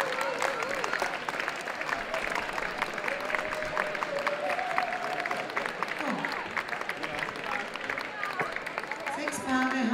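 Loud, steady applause from a crowd fills a ballroom as dance couples march in, continuous and dense throughout, with a voice heard over it.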